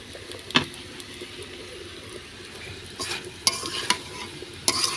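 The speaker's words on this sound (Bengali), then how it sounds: "তো আস্তে আস্তে আমি তাপে ভাজিটা করে নিব। আর আমি মাটির চুলাতে রান্না করি।" A mixed vegetable bhaji cooks slowly over low heat in a pan on a clay stove. A soft, steady sizzle sits under a few sharp utensil clinks and scrapes near the end.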